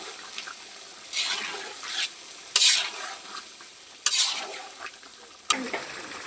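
Potatoes frying with spices in a pan for a village-style fish curry, a steady close sizzle with bursts of stirring and scraping, three sharp clanks of a utensil against the pot, no talking.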